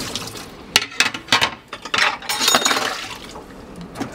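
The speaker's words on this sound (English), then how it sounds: "just put water on it." Water pours from a sink tap onto the glue-coated glass print plate of an Ultimaker 2 3D printer, a splashing, uneven rush with small clinks, close by.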